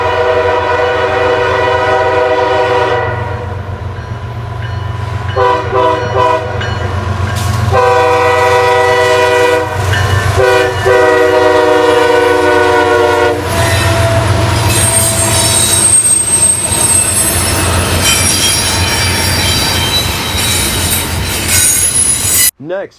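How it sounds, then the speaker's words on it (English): CSX 907 leads a westbound intermodal freight train past at Blue Island, Illinois, loud and close, with squealing wheels, repeated long horn blasts and a steady rumble of cars rolling by. "Our first train would be a westbound intermodal with CSX 907 on point."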